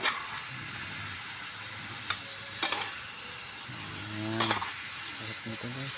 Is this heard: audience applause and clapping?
no